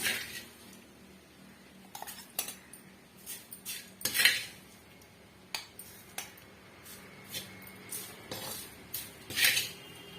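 Scattered clinks and scrapes of a spoon against metal as ingredients are scooped into a mixer jar, irregular taps spread across a quiet background.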